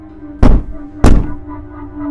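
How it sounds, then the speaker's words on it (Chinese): Two crisp, loud knocks strike a bedroom wall from the other side, spaced about half a second apart, close and sharp with a short ringing tail in a quiet room. "他床头的这面墙上传来了清脆的敲击声。"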